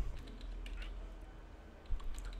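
Someone types on a computer keyboard, a short run of quiet, close key clicks with small irregular pauses over a faint background hum.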